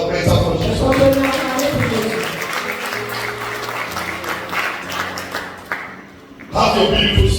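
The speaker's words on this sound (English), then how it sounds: "Can we clap hands up for Jesus?" A church congregation claps and cheers for several seconds, loud and sustained, with a voice and some music underneath, ending in a brief lull before the sound swells again.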